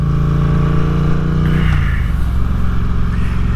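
A 2024 Triumph Speed Twin 900 motorcycle engine, close and loud, drones steadily, then the pitch drops as the revs fall away about halfway through, settling into a lower rumble.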